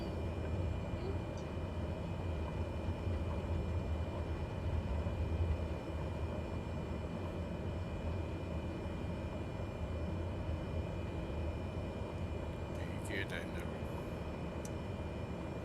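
An aircraft in a flight simulator game approaches to land in Iceland, a steady droning engine rumble that continues throughout under occasional talk.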